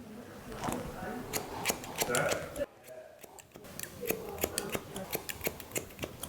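Scissors snip through hair at the crown during a haircut, a run of quick, close, crisp clicks with a short pause partway through, faint voices underneath.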